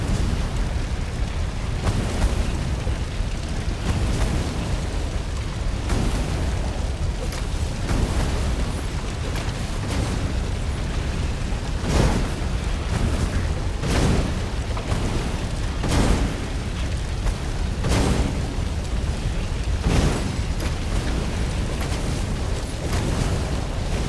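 Cannon traps in the video game Stories: The Path of Destinies fire a steady series of deep booming blasts, roughly one every two seconds, over a dense rumbling background.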